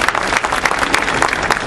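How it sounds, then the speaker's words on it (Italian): Audience applause at an Italian municipal election campaign opening rally, steady dense clapping from a crowd filling the whole short stretch without speech. "Un applauso per cortesia,"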